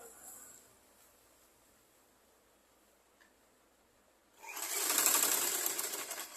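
A sewing machine stitches a blouse, a low faint run at first, then a loud steady whirring burst of stitching near the end.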